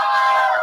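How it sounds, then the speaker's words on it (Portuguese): A church congregation at a Sunday missions service lets out a loud, sustained joyful shout together, many voices blending into one brief roar up close. "Dá um brado de júbilo ao Senhor,"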